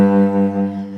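Cello sounding a sustained low bass note with rich, steady harmonics, bowed alone and close, swelling gently over about a second as part of a four-note chaconne bass line.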